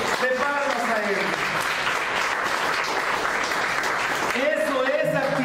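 A church congregation claps strongly and continuously, a loud, even wash of applause, while a voice speaks over it at the start and again near the end.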